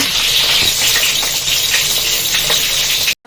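Onion and green chilli frying hard in hot oil for a potato fry, a dense, loud, close sizzle with faint stirring, running steadily until it cuts off abruptly.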